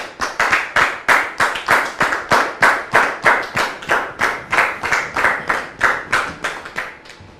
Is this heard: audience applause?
yes